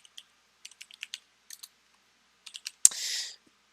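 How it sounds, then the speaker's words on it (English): Keys clacking on a computer keyboard in short separate bursts of taps, close and clear, while typing a search term, followed by one sharp louder key strike and a brief hiss. "I'm going to type Microsoft Edge."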